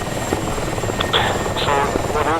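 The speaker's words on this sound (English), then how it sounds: "let's go and watch some helicopters, shall we?" A helicopter flies in the DCS flight simulator during a night air-defence mission, a steady rotor and engine drone that holds throughout, with brief radio chatter and tonal beeps over it.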